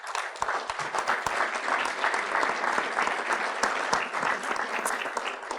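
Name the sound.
audience round of applause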